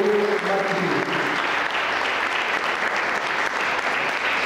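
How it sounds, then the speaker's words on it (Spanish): Steady applause from an audience after a choir from Guerrero directed by Lourdes Martínez, a dense even wash of clapping throughout with brief tonal sounds early on. "Fuerte el aplauso, por favor, para el pueblo de Estado de Guerrero"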